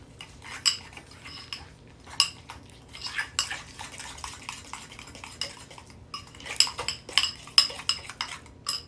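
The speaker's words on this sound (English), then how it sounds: "So I'm going to stir this all up" A spoon stirs a glaze mixture for a baked ham in a dish, giving soft scraping with scattered clinks and taps against the sides, close and fairly quiet.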